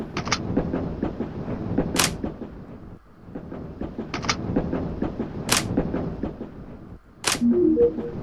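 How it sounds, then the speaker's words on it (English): Lockpicking a door lock in a video game, Tales of the Black Forest, a repeating pattern of metallic clicks and sharp snaps over a rumbling ambient bed, close and moderately loud, with no talk. "The door is unlocked. The lockpicks are now broken."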